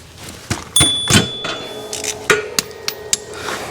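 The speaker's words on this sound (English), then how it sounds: "There's a little drain bolt right here, 17 mil. You're just gonna loosen it." Wrench working a 17 mm drain bolt underneath a CFMoto CForce 600 ATV during an oil change, heard as a series of sharp metallic clicks and knocks scattered irregularly at close range, with no talking.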